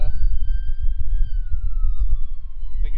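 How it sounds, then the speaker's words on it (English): An ambulance siren arrives at Farley Beach, its thin wailing tone drifting slowly downward at a moderate distance. Strong gusty wind rumbles underneath. "Here comes the ambulance and the paramedics,"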